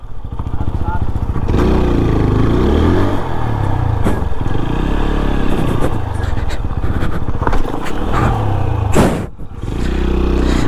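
A CBR 310 motorcycle being ridden, its engine droning steadily and loudly throughout with a brief dip near the end, while people talk over it.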